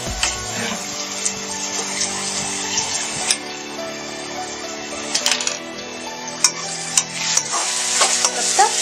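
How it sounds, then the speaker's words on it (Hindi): Six packets of Maggi noodles with their masala stirred and mixed in a pan, a continuous scraping of a spoon against metal with occasional sharp clinks and a light sizzle underneath. "अब इसको एक बार अच्छे से मिक्स कर देते हैं।"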